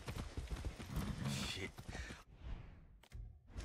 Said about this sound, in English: I'm on the horse, alright.